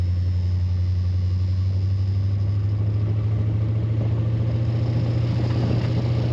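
A 1931 Ford Model A roadster pickup street rod idles with a deep, steady exhaust rumble from the rear, a constant low throb held evenly throughout, close and without talk.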